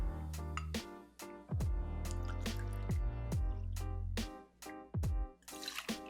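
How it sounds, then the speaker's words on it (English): Two ounces of Hendrick's gin being poured for a cocktail, heard as a run of close, liquid glugs and drips in an uneven rhythm over about six seconds, with no talking. "First up, what we're gonna do is we're gonna do 2 ounces of gin."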